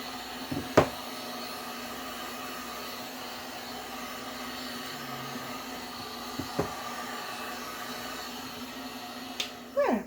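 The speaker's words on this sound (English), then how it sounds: "I got the heat gun here. Just warm it up." A heat gun warming shrink wrap around a bar of soap runs as a steady, quiet blowing hum, broken by a few soft knocks and handling sounds, with no talking.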